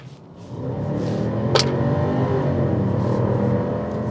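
Genesis G70 facelift with 2.5-litre turbo engine accelerating at full throttle in Sport Plus mode, heard from inside as a deep, rising, sustained rumble that holds loud and steady throughout.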